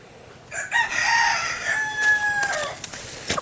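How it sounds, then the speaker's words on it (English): Roosters crow in long, drawn-out calls, one after another, with a few clucks around them. Fairly close and clear, with no talking. "The strangest chickens I've ever seen"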